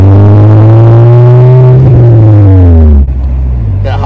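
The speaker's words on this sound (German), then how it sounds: "Gleich können wir mal wieder ein bisschen Gas geben." Old car accelerating, its engine revving loudly and close with a strong harmonic drone that climbs, then drops as the throttle closes near the end, leaving a quieter idle.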